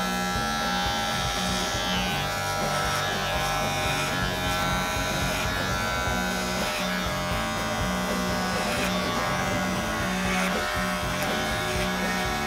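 An electric hair clipper buzzes steadily while cutting hair in a salon chair, its pitch wavering as it works. Faint conversation sits in the background.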